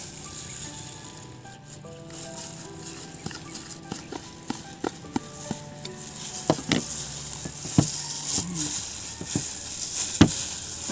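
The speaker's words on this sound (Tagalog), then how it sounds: "Alat yung cheese na ihalo natin dito. So, halo-halo lang. Ihalo natin yung bawang." Cheese and garlic being stirred into a dish, a spoon scraping and clacking in repeated short knocks against the pan over a steady low sizzle.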